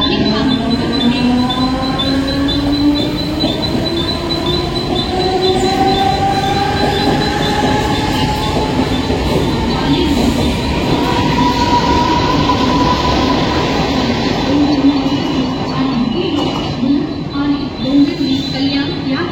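A fast Mumbai local train bound for Ambarnath stands or rolls at platform 3, a loud steady rumble with long squealing wheel tones gliding across it, under faint station announcements.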